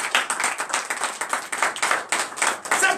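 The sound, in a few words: applause for Jesus in church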